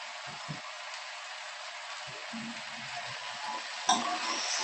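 Chopped onion added to a pan for a Bengali-style mixed vegetable dish, frying with a soft, steady sizzle while being stirred, with a few scraping clatters and a sharper knock near the end.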